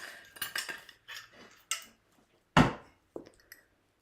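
Spoon and cup clinks while chamomile tea is made with boiling water: a scatter of light metal-on-ceramic taps and rattles, then one sharper clatter and a couple of small clinks, close and alone.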